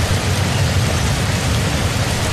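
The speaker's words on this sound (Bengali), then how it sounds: "বৃষ্টি যেন আরো বেড়েই যাচ্ছে" Heavy rain pouring down steadily in a foggy wooded area, a dense, loud, unbroken wash of drops with deep rumbling underneath and no voices.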